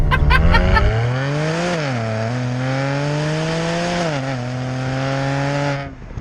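A tuned 539 bhp BMW 335i Touring revving hard to 7,000 RPM, its engine note climbing steadily and loudly across two rising pulls before easing off, heard close from inside the car.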